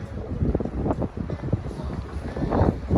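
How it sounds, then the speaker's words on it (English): Wind buffets the microphone on the open upper deck of a large cruise ship beside an infinity pool. The gusty rumble is loud and continuous for a few seconds. "pardon the wind"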